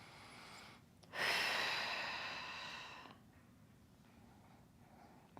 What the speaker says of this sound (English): And we'll take 3 more breaths here.